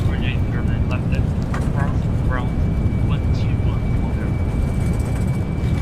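Boeing 787 thrust reversers roaring in Microsoft Flight Simulator on a landing rollout, a steady, broad, loud engine wash that holds for the whole stretch while people talk over it.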